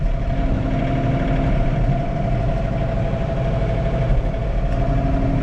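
A John Deere 3046R compact tractor's diesel engine runs close by with a steady, heavy, low drone and a faint mechanical hum, holding even throughout with no voices.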